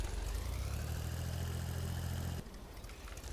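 A tractor engine in Farming Simulator working a field after corn, a steady, loud low-pitched idle hum with a droning tone that drops off abruptly partway through, leaving a quieter rumble.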